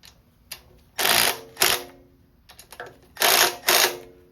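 Bolts on the oil filter attachment of a 1984 Chevy square body engine rebuild are cranked down with a ratchet, giving several bursts of rapid clicking separated by short pauses, close and fairly loud.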